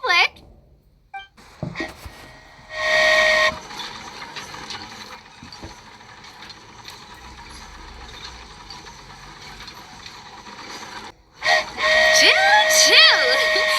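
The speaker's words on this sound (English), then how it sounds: "Choo-choo! Aerial Express moving out." In Genshin Impact, a flying train gives a steam-style whistle that rises and bends in pitch. It sounds near and loud at the start and again at the end, with a sustained whistling hum in between.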